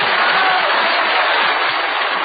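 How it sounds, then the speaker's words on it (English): Steady applause from an audience after a ventriloquist's act, a dense continuous wash of clapping without pauses, moderately loud and without speech. "Oh, just listen to that applause."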